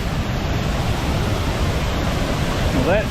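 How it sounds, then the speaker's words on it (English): Waterfall in Cherokee National Forest, a loud, steady rushing roar of falling water heard up close, with a brief voice at the very end. "That is some water flow."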